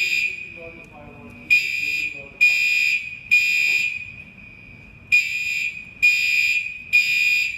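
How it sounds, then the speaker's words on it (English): A fire alarm buzzes in shrill, evenly spaced bursts, pausing briefly between sets of beeps, while a person talks quietly underneath. "That fire alarm's kind of annoying."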